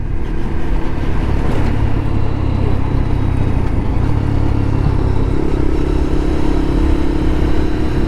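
Lexmoto LXR 125 motorcycle on the road: a loud, steady engine drone with heavy wind rush, held continuously from start to finish, with no talking.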